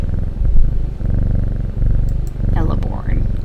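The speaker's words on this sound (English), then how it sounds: "let's pet our kitty" A petted cat purrs in the Strange Horticulture video game, a steady low rumbling loop that runs under a person talking, with a brief higher chirp near the end.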